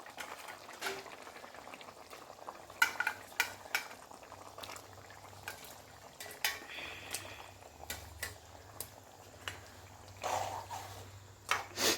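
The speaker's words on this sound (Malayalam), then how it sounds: "കട്ട് ചെയ്ത് വെച്ച അയില നമുക്ക് ഇതിലേക്ക് ഇടാം." Cut mackerel pieces go into a simmering curry with a few scattered clinks and soft knocks against the pot, over a low steady bubbling, fairly close and quiet, with no talking.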